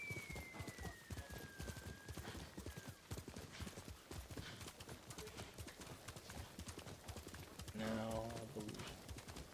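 Horse hooves clip-clopping in the video game Ghost of Tsushima, a fast rhythmic trot under occasional game sounds and a brief whinny, with someone speaking briefly over it.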